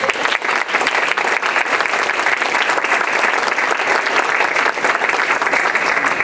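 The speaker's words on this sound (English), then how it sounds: "let's give a big round of applause for Finnegan" A big round of applause greets a panelist being introduced at a transgender roundtable discussion, dense and steady clapping from an audience filling the room for about six seconds without talk.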